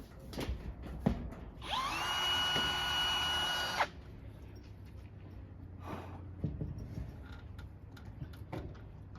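Power drill driving self-tapping screws while fitting garage door seals, one steady whine of about two seconds that stops abruptly, set among scattered clicks and handling knocks.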